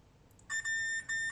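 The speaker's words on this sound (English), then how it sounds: "although they still beep in diode mode, they were obviously burnt" A multimeter set to diode mode beeps while probing iPad Pro board components, giving a short chirp followed by two longer steady electronic tones in a quiet room.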